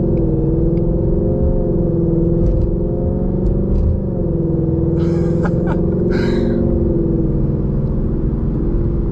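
A 2020 Ford Mustang GT fitted with a Borla S-Type cat-back exhaust, heard from inside while driving: a loud, steady V8 drone rumbling throughout, with a few brief sharper bursts near the end.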